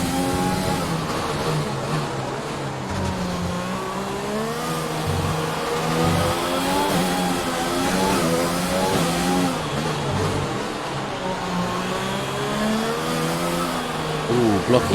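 Race car engine in an F1 video game during Singapore Grand Prix qualifying, screaming at high revs with rising and falling pitch as it accelerates and shifts, loud and continuous throughout, with a voice talking underneath.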